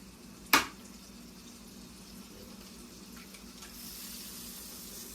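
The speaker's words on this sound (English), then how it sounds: "So what I do for cracking egg is I drop it from a spot like this." An egg dropped onto a pan cracks with one sharp, loud click near the start, then a quiet sizzle and hiss of frying fills the rest, growing slightly louder toward the end.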